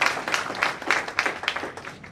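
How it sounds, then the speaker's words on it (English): Audience at a town hall meeting in Ibadan breaks into brief applause, a dense wash of clapping from a crowd that swells and fades in quick pulses over about two seconds. "Clap for him for a second, please."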